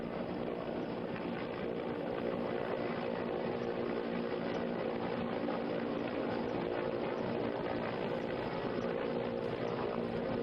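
An army rescue helicopter hovers over the Tawi River near an unfinished dam, its rotor and engine a steady, dense drone that holds without a break, with no voices.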